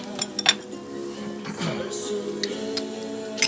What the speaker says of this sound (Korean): 짠한번 하고 먹자 그랬나?